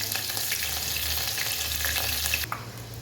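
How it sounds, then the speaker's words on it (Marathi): Mustard seeds and green chillies sizzle in hot oil in a tempering for drumstick pitla, a steady close crackling hiss that runs continuously before a slight drop near the end. "आता या तापलेल्या तेलामध्ये मोहरी घालूया."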